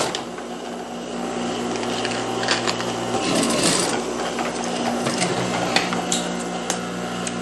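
A sewing machine stitches a ruffle onto a child's dress, a close, steady mechanical whir with faint tapping, running continuously for several seconds without speech.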